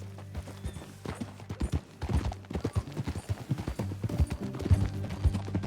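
Horse hooves clip-clop at a steady trotting rhythm in Red Dead Redemption 2, close and distinct over a low background hum, with each hoof strike clearly separated.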